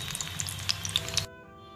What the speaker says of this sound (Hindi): सभी रोल्स को इसी तरह से फ्राई कर लीजिए।